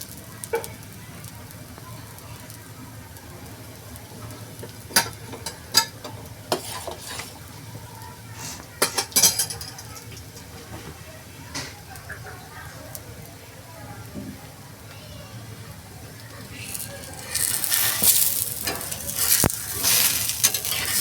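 Makki ki roti, a corn flatbread, roasting on a griddle with a faint steady sizzle, occasional sharp taps and scrapes, and a louder hiss near the end while someone speaks.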